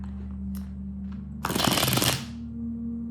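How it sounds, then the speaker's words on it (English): A brief, loud riffle of tarot cards being shuffled, a dense fluttering burst lasting under a second over a steady low hum. "Do one more shuffle."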